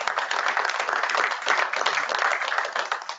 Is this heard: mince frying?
no